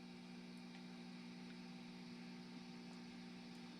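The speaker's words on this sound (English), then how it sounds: "You hear a little bit of hum" A quiet, steady low hum with a faint hiss on top comes from an idling Matchless Spitfire clone guitar amp with its guitar input muted, constant and unchanging throughout, with no playing or talk.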